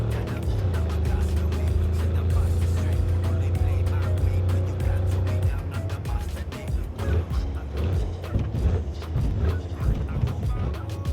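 Car engine in Cyberpunk 2077, a steady loud drone that drops off partway through as the car slows to a halt, followed by choppy rumbling and clatter.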